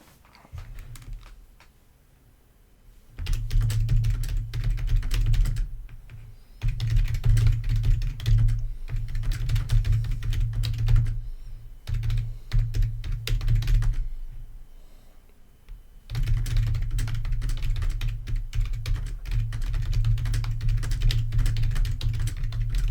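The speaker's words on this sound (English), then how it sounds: "Same keyboard I always have, Chad." A computer keyboard is typed on in bursts of rapid, close clicking separated by short pauses, continuing steadily for over twenty seconds without speech.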